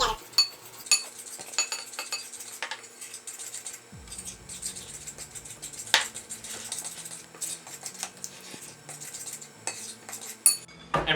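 Donut icing of milk and sugar being whisked in a bowl for homemade Krispy Kreme-style donuts, giving rapid, irregular metal clinks and scrapes of utensil against the bowl, close and continuous with no talking.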